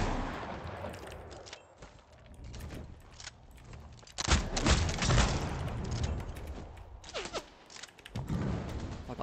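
Bursts of gunfire in a video game sound at mixed distances, with scattered shots and louder volleys in the middle and later, set against the game's background noise.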